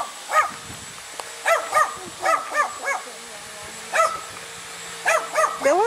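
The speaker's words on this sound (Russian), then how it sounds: "Да ладно тебе лаять-то, никто тебя не боится." A dog at a dacha garden plot barks in short repeated yips and woofs, several in quick clusters with pauses between, fairly close, with a person speaking quietly in the background.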